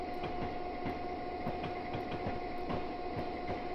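Train rolling over rail joints on Sherman Hill near Cheyenne in a train simulator game, a steady rhythmic clickety-clack of wheels under a constant mechanical hum, close and continuous.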